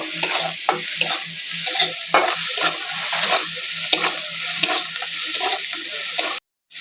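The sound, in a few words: onions frying in a pan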